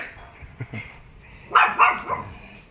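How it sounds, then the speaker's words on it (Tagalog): A small, noisy dog gives a few sharp barks at close range, with a louder cluster of yaps near the end over faint background sound. "Ito yung maingay na maliit na aso"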